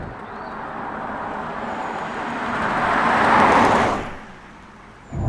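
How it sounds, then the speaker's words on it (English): A BMW i5 M60 electric car with 590 brake horsepower accelerating hard, heard as a rising whoosh of road and wind noise that swells to a peak and then falls away, fairly loud with no talking. "if we put our foot on the accelerator, we'll get that remarkable acceleration from the 590 brake horsepower"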